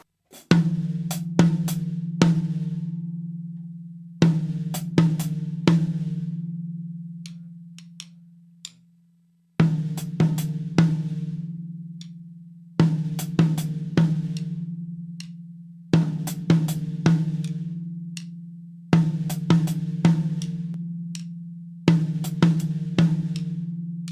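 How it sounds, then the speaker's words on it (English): An open-handed African gospel praise drum fill repeats in short bursts of quick hits, sharp hi-hat ticks alternating with a resonant first tom, each burst ringing out before the next. "it's an alternation between the hi-hat and the first drum"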